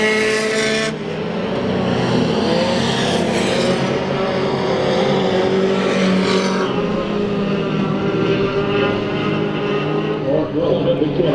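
Race cars lapping in a heat race at Bakersfield Speedway, a loud continuous engine roar with rising and falling pitch as cars pass, steady throughout.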